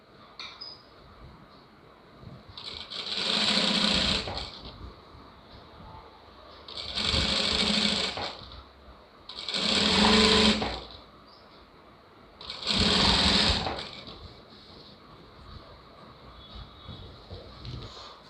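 A sewing machine stitches a blouse lining in four separate bursts of rapid whirring, each a second or two long with quiet pauses between, heard close and moderately loud.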